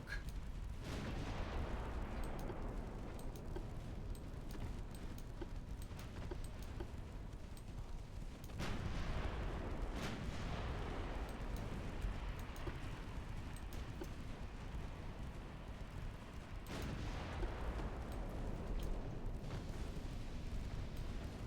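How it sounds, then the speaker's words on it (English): Ammunition detonating aboard a transport ship in the naval game Ultimate Admiral Dreadnoughts, heard as several heavy booming blasts with long rumbling decays, spread across the clip and fairly distant. "Ammo detonation on transport."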